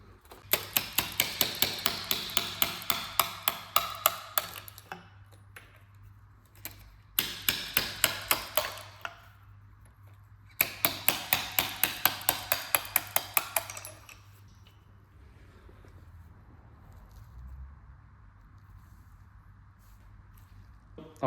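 A small slide hammer raps repeatedly while pulling fuel injectors from an Audi B9 S5 cylinder head, coming as three quick bursts of sharp metallic clacks separated by short pauses, close and fairly loud, then trailing off into quiet workshop handling noise.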